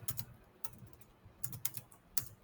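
Quiet clicks of a computer keyboard as someone types Gujarati text with a typing tool, the keystrokes coming in short irregular bursts with pauses between, close and faint.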